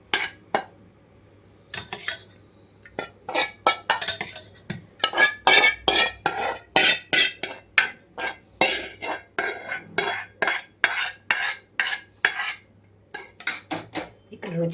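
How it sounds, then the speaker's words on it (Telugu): A spoon clinks steadily against a bowl as cooled tomato tempering is stirred into curd for a raita, the rhythmic scraping and tapping continuing close by without talk. "ఇప్పుడైతే ఆరిపోయిన తాలింపు అంతా కూడా పెరుగులోకి వేసేసుకుంటున్నాను"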